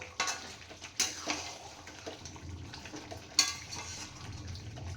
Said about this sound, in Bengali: এবারে আমি এটাকে ভালো করে একটু কষিয়ে নেব, তারপরে জল দিয়ে দেব।